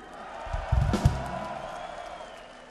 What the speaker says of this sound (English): Applause for Renee!